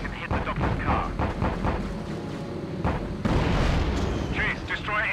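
Explosions boom repeatedly through the Denmark mission of the World War II flight combat game Secret Weapons Over Normandy, with dense, rumbling blasts overlapping steadily and a heavier burst partway through.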